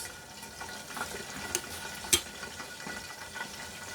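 Chicken and tulingan tuna frying in a covered pan, a continuous muffled sizzle with occasional small pops and one sharper crackle, at moderate volume with no talking.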